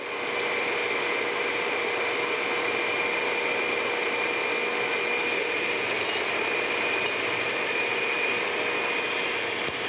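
Electric stand mixer motor whirring steadily while mixing chocolate chip cookie dough with egg, a constant close whine and hum with no speech, running throughout.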